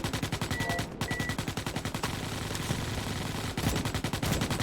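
Rapid automatic gunfire in a bug-fighting shooter game, loud and close, rattling in fast regular bursts with a short gap near the one-second mark before resuming steadily to the end.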